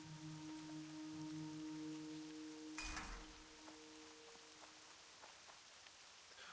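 Steady rain falls in the World of Warcraft video game, a continuous hiss of drops on surfaces heard alone, with a brief swelling whoosh midway and in-game tones fading out.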